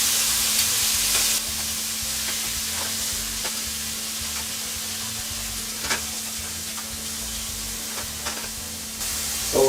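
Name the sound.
flank steak pieces searing in a pan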